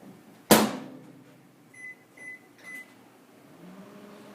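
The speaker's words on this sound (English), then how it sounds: "So I'm just going to pop it in the microwave behind me for 25 seconds." A microwave oven starts with a sharp door thump or button click, followed by three short electronic keypad beeps and a faint hum as it runs.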